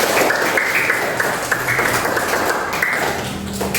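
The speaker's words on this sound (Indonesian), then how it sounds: "anak-anak, kasih tepuk tangan yang meriah untuk Mbak Sally" Schoolchildren in a fifth-grade classroom clap for a guest, a lively burst of quick, close hand claps and taps that carries on throughout without pause.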